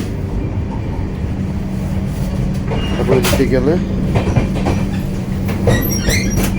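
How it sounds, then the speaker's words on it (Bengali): A Duronto Express running from Kolkata to Delhi rumbles steadily inside an AC three-tier coach, with rattling and clacking from the rails and people talking over the noise. "আমাদের ট্রেন ছুটে চলছে"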